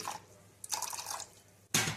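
Water splashes into a pot of fried moong dal for rinsing, with short bursts of pouring and a sharp splash near the end, close and fairly loud.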